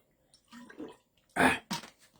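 Water being fetched and poured, heard as two short, close splashy rushes after a few soft, murmured sounds, in a quiet indoor room.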